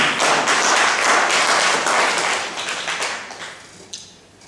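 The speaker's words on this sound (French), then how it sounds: "C'est la bonne réponse, applaudissez s'il vous plaît." A live audience applauds a correct answer at a Haitian culture quiz launch event in Paris, with loud, dense clapping that fades gradually over several seconds.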